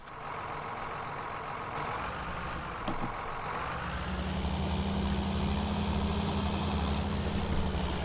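Tractor engine in Farming Simulator 19 rumbling steadily as it drives toward a field, a low drone that deepens and grows slightly louder partway through, with a brief clank midway.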